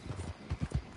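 Horse hooves clip-clopping along in Red Dead Online, a short run of soft, low thuds in an uneven rhythm over faint background ambience.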